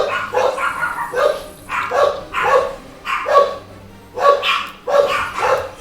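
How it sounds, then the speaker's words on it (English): Several dogs bark in repeated bursts, roughly one volley every half second to second, moderately near and clear, with faint background noise between barks. "the dogs decide at this moment is the perfect time to go bark at everybody"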